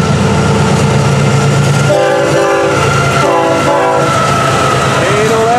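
A long double-stack freight train, roughly 12,000 feet with several locomotives, rolls past close by with loud, continuous rumbling and rail clatter, broken by repeated blasts of the horn.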